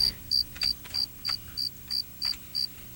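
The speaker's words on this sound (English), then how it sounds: "who are the crickets for?" A cricket chirps in a steady, evenly spaced series of about ten short, high chirps, clear and close against a quiet background.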